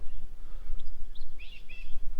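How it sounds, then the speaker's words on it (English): Birds chirp at a large desert water hole in the Simpson Desert, with short high calls and a brief trilling burst scattered over a steady low wind rumble, fairly distant and faint. "You can hear the birds."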